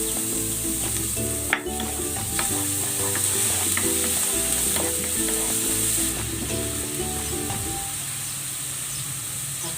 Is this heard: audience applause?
no